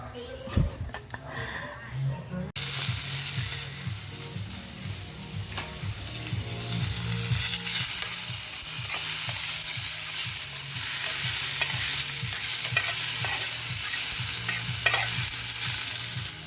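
Sautéing in oil in a pan while cooking binudo: a loud, steady sizzle with the scrape of stirring, starting abruptly after a moment, a voice talking over it throughout.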